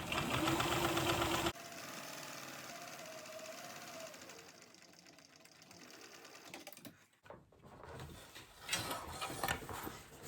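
Sewing machine running steadily as it stitches a tote bag seam with back stitching at a pocket, loud at first, then continuing more quietly with some mechanical clatter and a brief pause near the end.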